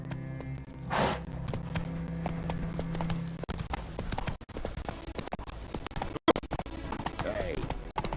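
Hooves clip-clop in a quick, steady galloping rhythm as the horse Roach runs in The Witcher video game, close and continuous with brief game sound effects and sharp dropouts.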